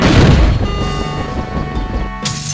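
A banana bomb explodes in a stick-figure action video game with a loud, close boom and crash that fades into ringing game sound, ending in a short sharp burst.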